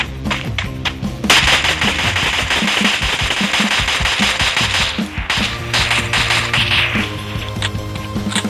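Bursts of rapid automatic fire from an M4 assault rifle in the game Free Fire Max, loud and dense, with a short pause partway through before the shooting resumes.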